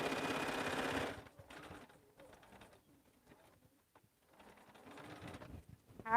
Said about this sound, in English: sewing through vinyl and fabric with batting